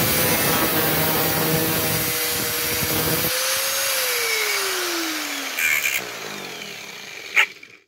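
A power saw cuts through a shoe sole with a steady grinding whine whose pitch sinks as the blade slows, then a couple of sharp knocks.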